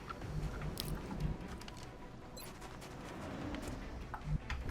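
Gunfire in the turn-based tactics game XCOM Long War, a rattling fusillade of rapid shots with a couple of sharper bursts, fairly loud over a busy low rumble of game background.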